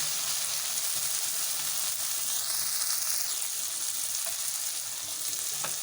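Carrots frying in a pan for chicken macaroni, giving a dense, even sizzle that holds steady throughout with a faint scrape or two near the end and no talking.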